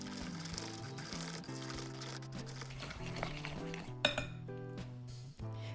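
A utensil clinks and scrapes against a bowl as egg yolks are mixed into butter and sugar for an orange cake batter, with irregular taps and a sharp knock, over quiet background music.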